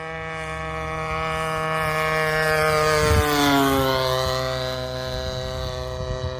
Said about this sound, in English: We'll do a low flight, low flyby.